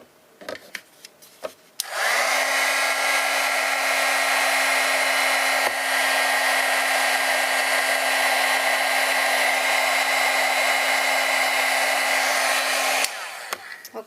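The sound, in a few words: heat tool blowing to heat emboss a stamped card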